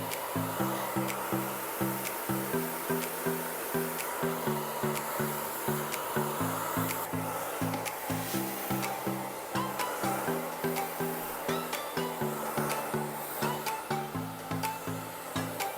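A hair dryer whirs steadily in the background while drying a man's hair, with a rhythmic brushing or rubbing sound pulsing along, repeating over and over.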